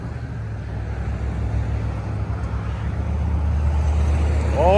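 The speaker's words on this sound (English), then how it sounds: "Got these Ram trucks making all this damn noise." Loud engine rumble from passing Ram trucks in road traffic, a heavy low drone that builds steadily and grows louder toward the end, with another vehicle's whine rising at the close.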